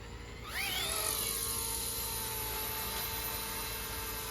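A Bell 206 micro RC helicopter spools up for takeoff, its whining rotor and motor pitch sweeping upward after a brief pause and then holding a steady, close, high-pitched buzz.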